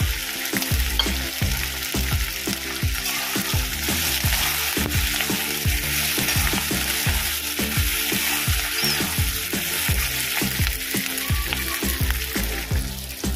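Capsicum frying for egg chilli in a hot pan, with a loud, steady sizzle throughout and repeated clacks of a spatula stirring at a brisk, uneven rhythm, close up with no talking.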